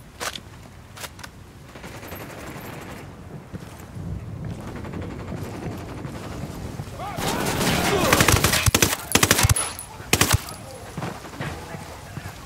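Heavy machine gun fire rattles in Ghost Recon Wildlands. It starts with scattered shots, builds into dense automatic bursts around the middle and ends in a few sharp single reports, with wind noise and game voices underneath.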